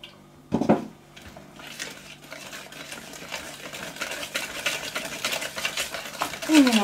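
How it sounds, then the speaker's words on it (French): A utensil stirs orange cake batter in a bowl, producing a continuous close scraping and slapping churn that builds in intensity, preceded by a short knock near the start, with a voice murmuring faintly at times. "On mélange, on mélange, on mélange,"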